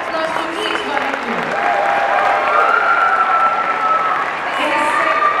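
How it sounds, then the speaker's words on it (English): An audience at a school kindergarten annual concert applauds steadily for several seconds, moderately loud and sustained, with a few voices and a faint tone beneath. "A big applause to each one of you."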